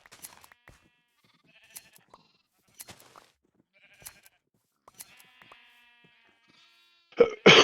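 Sheep bleating in Minecraft, with several faint, short bleats scattered across a quiet stretch and then a louder, closer burst of noise at the very end.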